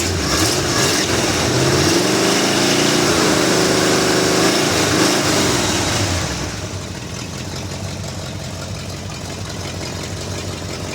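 1971 Chevrolet K10 pickup engine after a cold start, revving loudly for about six seconds, then dropping to a steady, rougher low idle.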